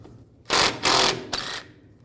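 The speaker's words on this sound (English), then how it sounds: "I'm going to loosen these bolts up. I'll use a 1/2" socket." A 1/2-inch socket wrench loosens bolts on the front shock of a 1964-67 Pontiac GTO in three quick, loud ratcheting bursts close by, with a brief pause between each.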